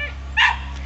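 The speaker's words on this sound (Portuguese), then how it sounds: "E ele tá aqui latindo." A pet dog lets out a single short, sharp bark, close and loud, in a quiet indoor room with a low steady hum underneath.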